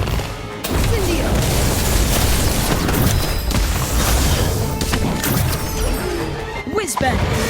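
Incendio spell cast in a Harry Potter game, with dense, loud fiery bursts and crashing impacts in continuous battle noise, cut off by a sharp break near the end.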